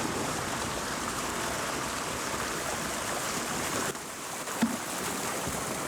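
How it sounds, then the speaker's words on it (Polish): Water pours steadily out of draining fish ponds in the Barycz Valley, a continuous broadband rush like a stream or small weir, fairly close and alone, with a brief dip and a small splash near the end. "Woda wypływa ze stawów."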